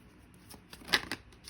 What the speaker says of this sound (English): I'm gonna give this 2 more shuffles.